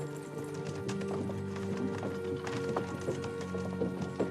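Horse hooves clip-clopping at an unhurried pace in the medieval game Kingdom Come: Deliverance 2, a steady close patter of hoofbeats over a low ambient bed.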